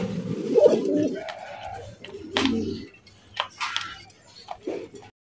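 Pigeons coo at a pigeon loft housing fancy, racer and giribaz breeds: low, throaty coos repeat in irregular bursts at close range, with soft clicks and faint background movement between them.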